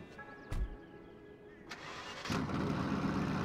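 A modded Dodge Charger Hellcat Widebody engine in Grand Theft Auto V cranks and fires up, then settles into a steady, loud low rumble close by, with no talking.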